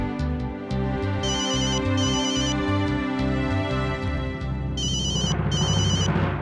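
A phone's ringtone rings out for an incoming call over a steady music bed, its bright repeating electronic tones sounding in two bursts, first near the start and again near the end.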